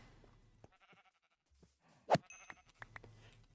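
Sheep in the block-building game FTB Skies 2 bleat a few times, one loud close bleat standing out among fainter game sounds and clicks, with no talking.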